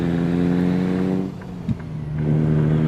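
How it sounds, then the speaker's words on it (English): A heavy truck engine in American Truck Simulator drones loud and close with a steady low hum that dips briefly, with a small knock, then builds back to a sustained rumble. "my truck is loud"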